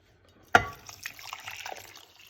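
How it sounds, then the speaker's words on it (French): Water from a large glass splashes onto blended shellfish carcasses, starting with one sharp pour and trailing into softer sloshing and liquid movement, close and fairly quiet, with no talk. "je vais venir rajouter un verre d'eau, un grand verre d'eau"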